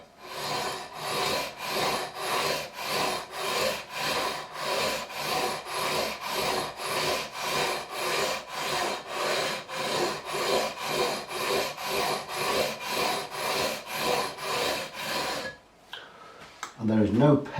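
Rhythmic back-and-forth sanding of Ibanez RG505 guitar frets with 400 grit sandpaper, a steady run of even rasping strokes close up, ending abruptly with a short burst of talk.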